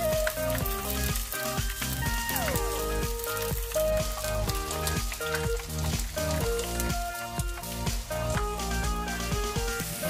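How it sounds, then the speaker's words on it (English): Acacia flowers frying in hot oil, a dense, continuous sizzle and crackle, with music playing loudly over it throughout. "Acacia flowers have moisture, so you have to be very careful not to be burned, as moisture makes oil shoot up."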